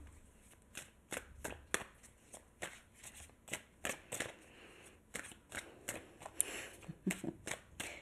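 Tarot cards being shuffled by hand in a quiet room, a steady run of crisp riffling bursts repeating in an uneven rhythm, close and moderately loud with no voice.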